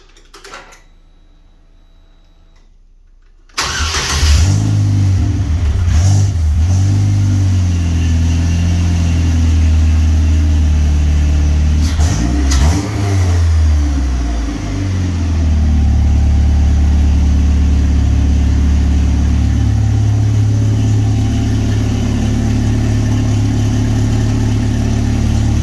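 After a few quiet seconds, a vehicle engine fires up abruptly and settles into a loud, steady, rumbling idle that runs on close by, with brief clatters and a slight dip in revs midway.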